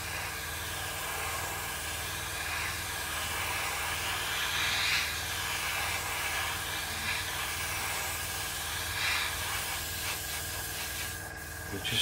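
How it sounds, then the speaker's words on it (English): An airbrush hisses continuously as paint is sprayed in light coats onto a 1/48 Eduard Spitfire scale model, a close, steady airy spray with slight variations in pressure and no talk. "We're just going to spray up the Hispano"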